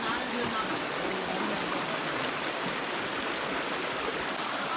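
A mountain stream rushes steadily along a pilgrimage trail to Sri Pada, a dense, unbroken watery roar close by with no pauses.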